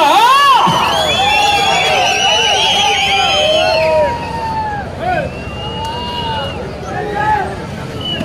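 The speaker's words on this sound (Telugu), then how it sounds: "విజిల్లు కేకలు కేరింతలు." Crowd at an Ongole bull-pulling race blasts repeated shrill whistles and loud shouts, dense and close at first, then thinning to scattered whistles and cheers over a steady background roar.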